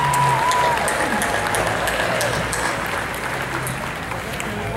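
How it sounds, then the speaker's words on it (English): Outdoor crowd at a Bethlehem Christmas tree lighting ceremony applauding third-grade students who decorated the mayor's tree; loud, dense clapping that starts strong and gradually thins out. "Let's give them a round of applause."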